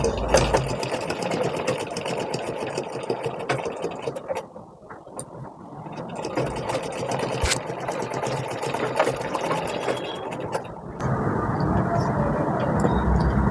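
A sewing machine stitching a four-tuck blouse, its needle whirring in steady close runs that ease off briefly near the middle and then pick back up, with someone speaking over the motor.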